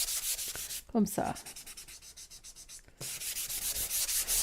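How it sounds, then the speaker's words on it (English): Wood is hand sanded in one direction to create a distressed finish, rhythmic scratchy strokes repeating steadily, broken by a short pause where a person speaks briefly before the rubbing resumes. "So I'm sanding in one direction."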